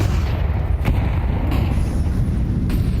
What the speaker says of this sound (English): Nice grenades in middle, actually forced Na'Vi back.